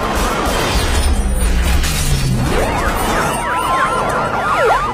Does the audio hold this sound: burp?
no